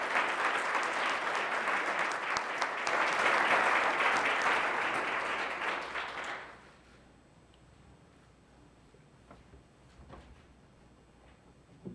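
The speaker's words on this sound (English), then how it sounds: "So not only do I want to acknowledge this, but with our applause, Victor," Audience applause at an academic event on social work education, loud sustained clapping that swells and then fades out abruptly about halfway through, leaving a quiet room with faint small noises.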